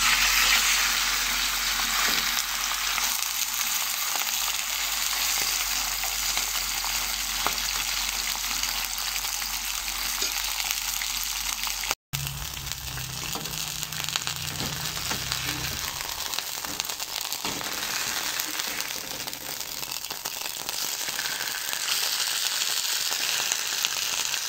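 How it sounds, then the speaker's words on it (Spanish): Steak fries in a hot pan for a Mexican breakfast, a loud continuous sizzle and crackle that briefly cuts out and then resumes, with no talking. "Aquí voy a ir poniendo pues el bistec para que se vaya friendo."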